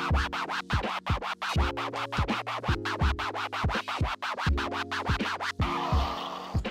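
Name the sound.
turntable scribble scratch, double time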